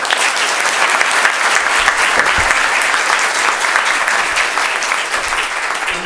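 A townhall audience applauds after a speech, steady dense clapping filling the room without pause.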